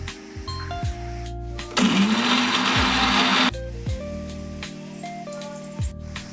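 A mixer grinder whirs loudly through dried red chilies, garlic, cumin and salt for chili powder, one dense roaring burst of about two seconds set against quieter kitchen background tones.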